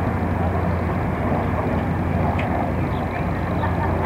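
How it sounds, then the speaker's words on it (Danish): Steady low rumble of helicopters circling overhead in New York, near the new World Trade Center, droning continuously with a muffled, distant quality and no break. "Og der er en masse helikopter i luften her hele tiden."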